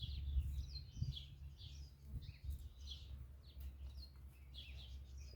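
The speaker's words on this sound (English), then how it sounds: "You know, I feed the sparrows." House sparrows chirp outdoors in a string of short, high, repeated calls, faint and fairly distant over a steady low rumble, with no one talking.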